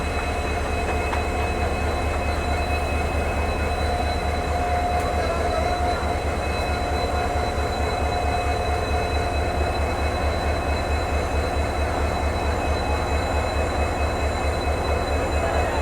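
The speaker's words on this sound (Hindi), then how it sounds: "EMD का ये जो आती है ना हमिंग साउंड" An EMD diesel locomotive hums steadily as the Rajasthan Sampark Kranti Express runs between Delhi and Jodhpur, a constant low drone under rolling wheel and carriage rumble, with no voices.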